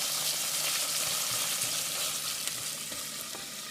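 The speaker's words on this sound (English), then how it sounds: "you can let them saute with the onions and the shallot for about a minute" Roasted red peppers sautéing with onions and shallot in a pan, a continuous close sizzle and crackle at moderate level, without talk.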